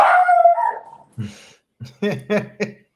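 A dog lets out a long rising howl, then a few short yips and barks follow, close and clear.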